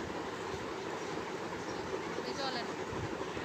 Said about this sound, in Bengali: দেখতে পাচ্ছেন একটা মিনি ট্রেন।